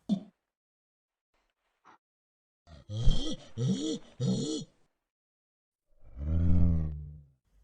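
An orangutan's throaty call: a few rising and falling hoots in quick succession, then after a pause a deep, drawn-out groaning bellow.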